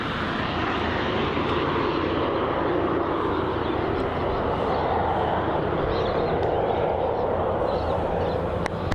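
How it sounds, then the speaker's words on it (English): Virgin airliner departing Melbourne Airport's runway 34, its jet engines a loud, steady roar that holds without a break for the whole stretch, dense and broad with no voices over it. "this on your screen is Virgin Flight 1031 going off to the Sunshine Coast, departing off runway 34"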